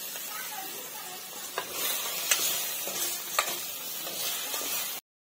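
Potato frying in a pan with turmeric and salt, a constant bright sizzle broken by a few spoon scrapes while stirring, ending abruptly.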